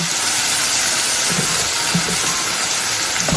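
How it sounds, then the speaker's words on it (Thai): Mushrooms dropped into hot oil give a loud, steady, close sizzling hiss that runs unbroken from start to finish with no voices. "เห็ดใส่ลงไปแต่น้ำมันเลยค่ะ"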